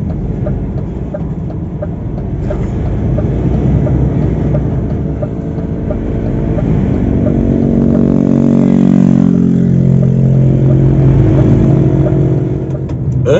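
Vehicle engine on a highway in Brasília's Federal District, a steady droning hum that rises in pitch as it accelerates through a gear change, loud and continuous.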